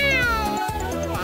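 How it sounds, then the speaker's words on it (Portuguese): A cat meows loudly and close up, two drawn-out, wavering cries in quick succession with no talk over them. "esse gato tá me perturbando"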